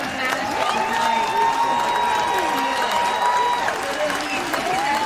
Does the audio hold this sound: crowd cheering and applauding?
yes